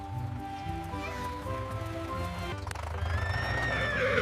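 A horse whinnies with a long, wavering high call over steady background noise and faint hoof clopping.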